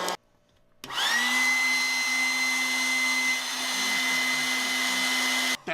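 A home coffee roaster cools freshly roasted beans just after second crack, a steady loud fan-like whoosh with a sustained hum that starts abruptly after a short quiet, runs evenly for about five seconds, then cuts off.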